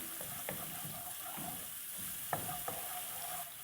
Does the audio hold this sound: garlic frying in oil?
yes